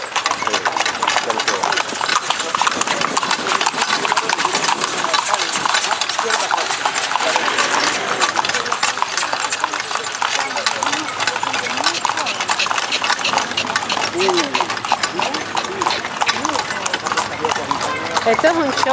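Horse hooves clip-clop steadily while pulling a wagon along a road in Egypt, the rhythmic close hoofbeats running continuously under loud wind and traffic noise.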